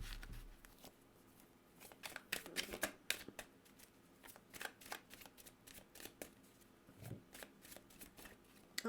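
Oracle cards being shuffled by hand: a steady run of crisp, papery riffles and flicks, close and fairly quiet, with no talking.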